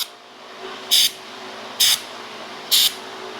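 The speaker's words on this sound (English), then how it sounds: "Just spraying really lightly in there." Three short, crisp spray bursts from a spray bottle of cleaner onto a used Harley motorcycle, evenly spaced about a second apart, over quiet background.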